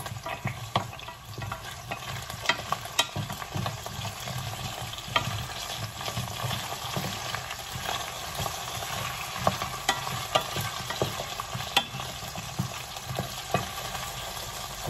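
Potatoes sizzle and crackle steadily in hot oil in a nonstick pan on high heat, with repeated scraping and stirring sounds from a utensil against the pan.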